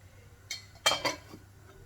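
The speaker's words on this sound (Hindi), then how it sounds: "अब इसको ढक देंगे थोड़ी देर ताकि ये गर्म हो जाए थोड़ा।" A metal lid is set onto a cooking pot of tomatoes with a few light clinks and a clatter, close and brief in a quiet kitchen.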